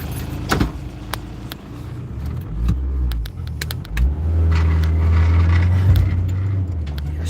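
A car driving uphill in fourth gear on a rural track, heard from inside with steady engine rumble that rises and strains, plus rattles and a few sharp knocks and thumps, loud and close.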